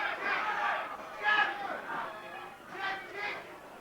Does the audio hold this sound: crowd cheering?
yes